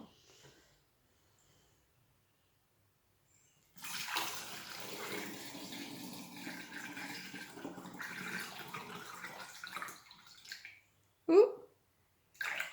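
Water poured through a funnel into a plastic milk bottle in a kitchen, a steady gurgling trickle lasting several seconds before stopping, followed by a brief exclamation from a voice.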